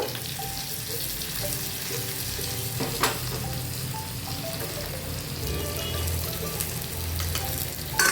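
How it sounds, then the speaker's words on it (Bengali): Garlic sizzling and frying in hot oil in a pan, a steady close crackle with occasional stirring clinks and scrapes, no talking. "এখন আমি দিয়ে দেবো রসুন। রসুনটা ভালো করে লাল করে গরম করে নেব।"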